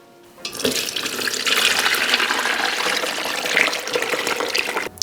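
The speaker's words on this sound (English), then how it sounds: "then pour the broth through the strainer" Bone broth pours steadily through a strainer, a continuous splashing, rushing stream of liquid that starts after a brief quiet moment and runs loud and close for several seconds.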